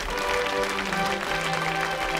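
Studio audience on a televised quiz show giving a short burst of applause, a dense, continuous wash of many hands clapping at a steady level with no talk over it.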